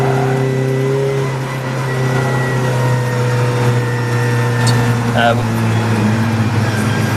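Roadsports race cars from several makes circle the Donington GP circuit, their engines droning and revving steadily at mid-distance while a commentator talks over them.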